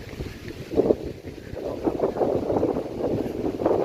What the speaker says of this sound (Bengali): কি সুন্দর বাতাস বইছে, তাই না বন্ধুরা?